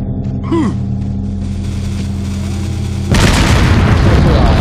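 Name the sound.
shotgun firing in the video game Resident Evil 4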